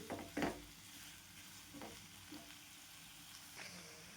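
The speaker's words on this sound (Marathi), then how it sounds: "हे बघा अशा प्रकारे मी छान फ्राय केला आहे पनीर" Paneer fries in hot oil in a pan, giving a soft, steady sizzle. A short scrape from stirring comes near the start, and the rest stays low and even.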